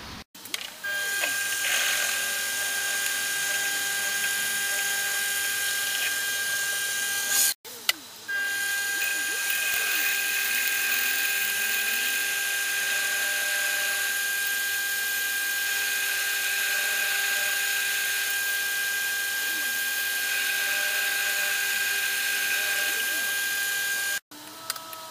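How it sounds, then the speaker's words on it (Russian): A lathe drilling a hole in a bolt runs with a steady high whine and grinding chatter for long stretches, stopping briefly twice, working close by. "У меня станок есть токарный. Поэтому на нем сделаю."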